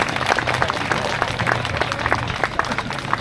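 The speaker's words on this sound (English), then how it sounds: "So a round of applause for them." An audience applauds interpreters at a NARM speech event in London, producing dense, steady clapping that fills the room evenly throughout.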